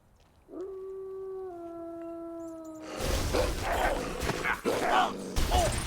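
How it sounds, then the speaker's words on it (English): Wolves in the video game Heroes of Hammerwatch 2 let out a long, steady, multi-voiced howl that holds a sustained tone for a couple of seconds, then gives way to louder, noisy game action and clatter. "I heard the wolves howling"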